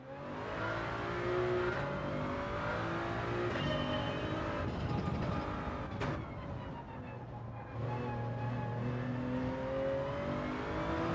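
A race car engine revs and accelerates in Gran Turismo 7, its steady loud whine rising and falling through gear changes over about eleven seconds, with brief shifts around the middle and late in the run.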